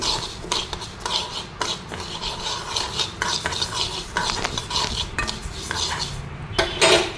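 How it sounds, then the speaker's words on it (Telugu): A spoon or spatula scrapes and clinks against a pan in steady repeated strokes, with a faint sizzle of food roasting underneath. "ఇట్లా కలర్ వచ్చే వరకు వేయించుకోవాలి"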